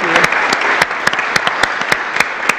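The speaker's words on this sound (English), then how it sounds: "So a big round of applause for you." Applause from an audience at a Lynn Haven city commission meeting for a scholarship honoree: steady dense clapping with sharp individual claps standing out, close and loud, no talk.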